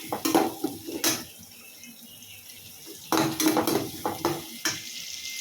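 Onions sauté in a pan with a low sizzle, broken by irregular clinks and scrapes of a utensil against the pan in clustered bursts.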